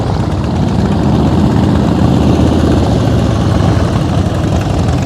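A motorcycle engine runs steadily at low throttle during slow-speed riding practice, giving a close, even, low rumble throughout.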